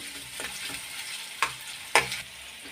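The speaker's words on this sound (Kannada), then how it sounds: "ನಾನು ಕೈ ಆಡಿಸಿ ಫ್ರೈ ಮಾಡ್ಕೊತಾ ಇದ್ದೀನಿ" Beans and chana dal frying on a medium flame while being stirred by hand: a steady soft sizzle broken by a few sharp clicks and scrapes of the spatula against the pan, with no talking.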